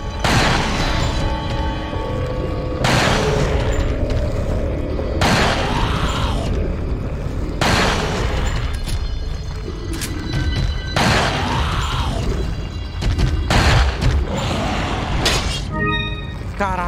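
Gunfire and heavy booming impacts during the Krauser boss fight in Resident Evil 4 HD, repeated loud blasts and crashes spaced every couple of seconds over a continuous rumbling game backdrop.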